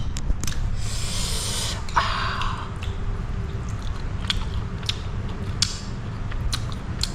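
Someone takes a bite of Lao-style larb made from hand-chopped meat and chews it close to the microphone, with biting and moist chewing sounds over a constant rushing background noise.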